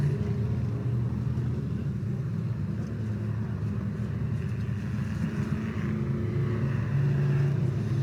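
Race cars, including a number 12 Camaro, roar around a road course at an MVRCC vintage racing event at Circle City, a steady, loud blend of engines droning continuously with no talking.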